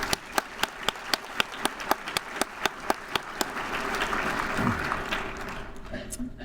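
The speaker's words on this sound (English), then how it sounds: "Please join me in giving a well-deserved round of applause to all of our investors" Audience applause at a corporate annual meeting, starting as sparse, evenly spaced claps and swelling into a steady wash of clapping from a large crowd toward the end.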